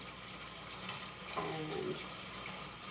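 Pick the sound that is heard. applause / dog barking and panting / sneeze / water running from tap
water running from tap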